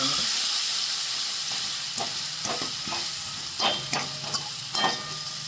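Crushed green chillies sautéing in a pan for a drumstick kadhi, a steady hiss of sizzling oil broken by a few quiet scrapes and stirs of a spoon.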